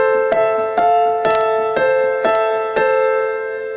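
Piano melody harmonized with an added note, steady repeated struck notes and chords ringing together with a fuller, thicker tone, close and clear.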